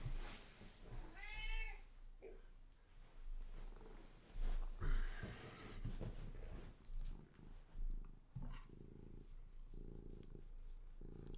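A cat nearby meows clearly and purrs, with a steady rumbling purr under several short, distinct meows across the stretch.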